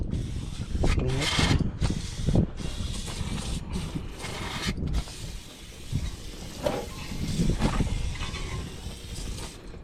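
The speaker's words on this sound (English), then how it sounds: "we're just gonna clean up this with the brake cleaner." Brake cleaner sprayed onto the front brake parts of a 2016 Mini Cooper S, giving harsh aerosol hissing in repeated long bursts with short pauses, close and loud, with someone talking over parts of it.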